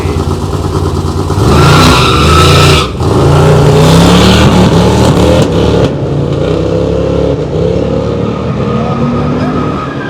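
A Camaro SS and a Dodge Charger race, their loud engines roaring and revving close by, with brief dips and tire noise as they accelerate hard, then the sound eases off.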